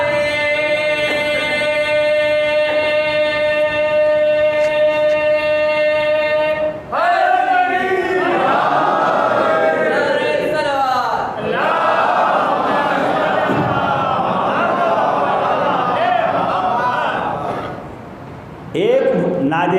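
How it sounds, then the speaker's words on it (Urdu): A congregation at a Shia majlis in a mosque recites salawat in unison, opening with one long, steady-pitched voice held for several seconds before a loud mass of voices surges in together and carries on until a brief dip near the end. "ایک اور بہتر صلوات پڑھے محمد والے محمد پر"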